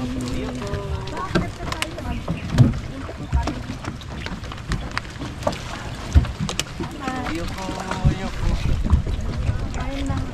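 Boat riding over choppy sea waves near Children's Island, with wind buffeting, irregular thumps and splashes of hull against water, and people talking over it.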